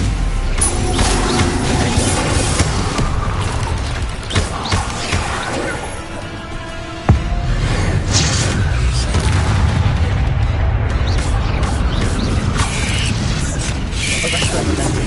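Harry Potter video game spell-casting blasts: loud booming impacts and mechanical crashes in a dense, continuous stream, with one sharp strike standing out midway. A voice speaks over it now and then.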